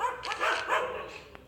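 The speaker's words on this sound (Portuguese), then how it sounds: "Olha essa cachorrada." Dogs bark in the Plants vs. Zombies 2 game, a few close, bright yaps in quick succession over a soft game background.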